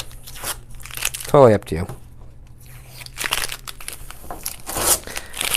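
Interior vinyl wrap film is peeled off a cabinet door, giving one loud crinkling, ripping burst amid scattered rustles while a voice speaks briefly nearby.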